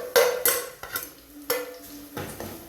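Ingredients are stirred in a hot pan while fish curry is cooked. Five or six distinct metallic scrapes and knocks of a spoon on the pan land at an uneven rhythm, close and fairly loud over a faint sizzle.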